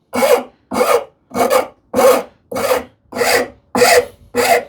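A hand-stitched wood rasp works a wooden shoe-tidy part on its finer side, giving eight steady, evenly spaced rasping strokes, close and loud, with no talk.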